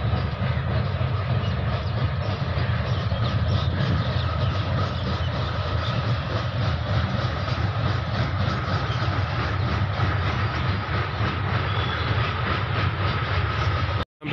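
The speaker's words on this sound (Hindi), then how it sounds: "ट्रेन भी जा रही है देखो" A train rolls across a railway bridge over the Ramganga river in Moradabad, a steady loud rumble with rhythmic clacking of wheels that continues unbroken before cutting off abruptly at the end.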